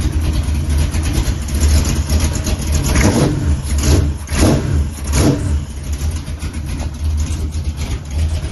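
A NASCAR race car engine runs loud and close with its rear wheels off the ground, rumbling at idle between several sharp rising revs and blips.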